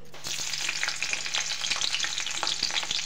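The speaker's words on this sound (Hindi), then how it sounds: "तेल गर्म हो गई है तो इसमें हम डालते हैं पहले मिर्ची" Chilies hit hot refined oil over a high flame, setting off a loud, crackling sizzle with spattering pops that carries on steadily for the few seconds heard.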